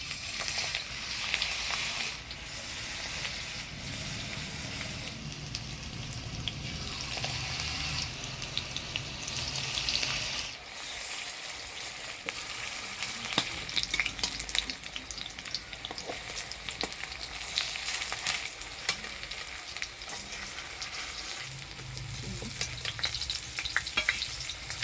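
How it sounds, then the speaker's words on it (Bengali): Coriander leaf fritters fry in white oil in a wok with a constant crackling sizzle, broken by stirring scrapes and occasional splashes. "কড়াই তেল দিয়ে দিলাম, এবার পটাপট বড়াগুলো ভেজে নিব।"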